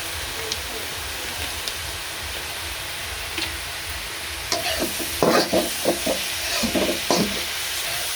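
Milk filling for puli pitha, reduced with powdered milk added, being stirred in a pan: a quiet hiss gives way to a run of close scraping, clattering stirs in irregular bursts over the last few seconds.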